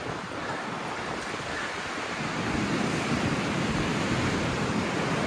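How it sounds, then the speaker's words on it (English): Strong wind gusts through a slot canyon in Texas, with a loud, steady roar of wind buffeting the microphone that grows slightly stronger midway through, with no talk. "The wind is whipping, boy."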